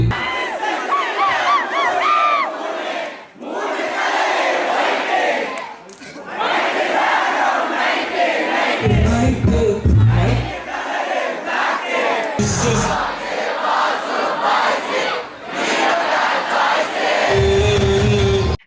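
A packed cinema crowd in a Tamil theatre sings and shouts along to a song, a loud, dense mass of voices that swells and dips, with whoops and cheers over the chant.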